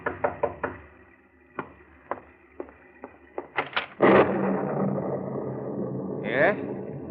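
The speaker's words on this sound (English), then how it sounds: "you're startled by a knock on the door" Several sharp knocks on a door in an old radio drama, a few quick raps, a pause, then more single knocks, followed by a door opening with creaking and room noise.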